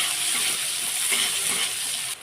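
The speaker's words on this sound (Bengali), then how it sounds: "পেঁয়াজ কুচি একটু ভালো করে ভেজে নেব।" Chopped onion frying in a pan: a loud, steady, hissing sizzle close up, with a small shift in texture as the pieces are moved, and no talk.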